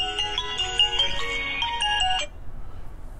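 A phone ringtone plays a bright, repeating electronic melody for about two seconds, then cuts off, leaving faint background noise.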